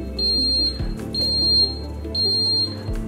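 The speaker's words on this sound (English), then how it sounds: "Press mute key to mute the alarm." An alarm annunciator sounds for active faults F1 and F2 with a steady repeating electronic beep, on-off pulses of a shrill tone recurring about every second, loud and alone.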